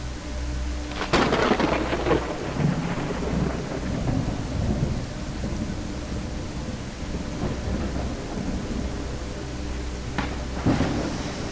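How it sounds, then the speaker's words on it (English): Steady rain with rolling thunder claps in the horror game Backrooms The Lost Tape, a loud crack near the start and another near the end over a continuous wash of rainfall. "It's raining now."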